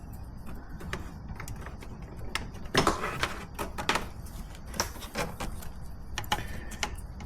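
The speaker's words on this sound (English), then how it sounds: "I actually use this tool again to snap the harness clip out of the bumper" Plastic harness clip being pried and snapped out of the front bumper of a 2024–2025 car with a trim tool: a string of sharp clicks and ticks, one louder crack near the middle, close and fairly quiet.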